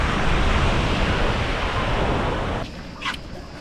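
Surf breaking on a resort beach at Belek, a steady broad wash of waves that drops to a softer hiss near the end, with faint wind and no talk.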